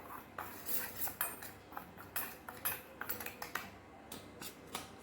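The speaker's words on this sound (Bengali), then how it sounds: "সেটা একটু মিশিয়ে নিলাম এই শুকনো চামচটা দিয়ে ভালো করে" A dry spoon stirs garam masala spice mix in a bowl while pakoras are prepared, giving a run of close, quiet clinks and scrapes in an uneven rhythm with no talking.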